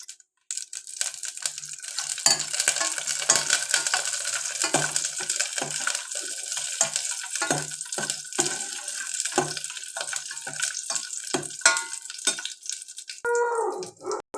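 Cashews and raisins crackle and sizzle steadily in hot oil, with scattered pops and light clicks of stirring throughout; no one speaks.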